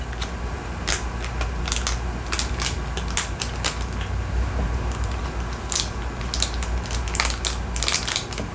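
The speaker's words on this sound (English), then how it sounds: "I love the crinkling. It's gentle." Plastic packaging for a set of large press-on nails is handled up close, giving a steady run of crisp crinkles and sharp clicks at a moderate level, with no voice over it.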